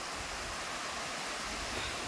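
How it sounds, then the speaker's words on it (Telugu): Water from two streams of Sadasiva Kona waterfall merging in a forest, a steady broadband rushing roar, close and continuous with no pauses. "2 కోణాల నుంచి వచ్చి ఇక్కడ వాటర్ కలుస్తాయి, ఇక్కడ నుంచి ఇలా వెళ్ళిపోతాయి కిందకి"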